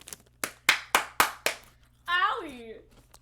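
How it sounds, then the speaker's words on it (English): Five sharp, evenly spaced hand claps ring out close and loud, followed by a short excited vocal exclamation from a person. "Awesome clapping"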